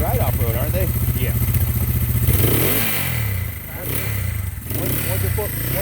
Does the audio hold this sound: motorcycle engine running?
yes